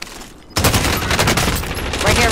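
Gunfire in Call of Duty erupts after a brief quiet moment into a loud, dense burst of rapid shots that continues to the end.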